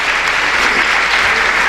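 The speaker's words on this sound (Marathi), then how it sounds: "टाळ्या" Brief, dense burst of audience clapping at a Satyapal Maharaj sermon gathering, a loud, even patter of many hands.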